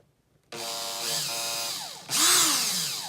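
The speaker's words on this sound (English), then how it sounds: "First I'll start with a non-brushless drill." A brushed electric drill starts up abruptly and whines loudly, pitch shifting slightly, then revs higher with a harsher buzzing tone near the end.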